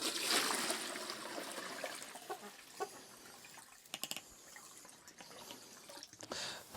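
Pure water running from a ground water system on a Finnish homestead in early spring, a close trickling and splashing flow with a few sharp drips and knocks along the way.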